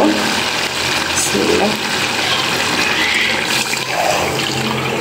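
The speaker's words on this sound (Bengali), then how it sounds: "এখন আমি এটাতে পানি দিয়ে দেব।" Water is poured into a cooking pot of sour curry made with jujubes, a loud, steady rush of liquid that runs unbroken from start to finish.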